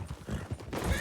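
Horse hooves clip-clopping in a video game, a quick faint run of soft rhythmic thuds lasting about a second.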